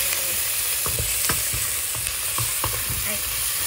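Pork adobo with pineapple being stirred in a cooking pan, a loud continuous sizzle broken by repeated scraping and clacking of a spoon against the pan, close up, no talking.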